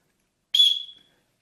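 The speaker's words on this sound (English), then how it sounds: "as far as I know, the whistle works quite well" One short, shrill blast from a small whistle built into a paracord buckle, blown outdoors during a forest walk, piercing and close, lasting about half a second.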